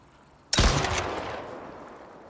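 A single loud gunshot in the video game Styx, a sharp crack that rings out alone and then fades in a long reverberant tail.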